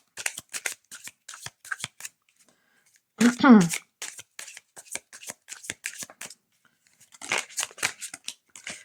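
A deck of oracle cards being shuffled close by, a brisk papery riffle and flutter in short bursts between stretches of someone talking in French.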